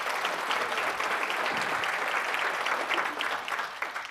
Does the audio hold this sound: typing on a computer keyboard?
no